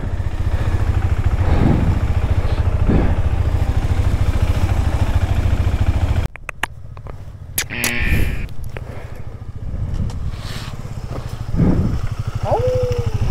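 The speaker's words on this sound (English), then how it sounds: "Quite a heavy bike." Heavy motorcycle engine running on a ride over Chang La pass in Ladakh, a steady close drone with wind buffeting, dipping midway as it eases off before building again, no speech.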